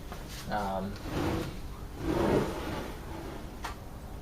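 A wooden drawer slides out and back in with soft rubbing scrapes, a few close movements, followed by a brief knock.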